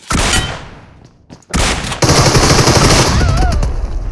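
Rapid bursts of automatic gunfire from a DBS gun in a shooting video game, loud and dense, with a short lull before heavier sustained firing resumes, along with game sound effects.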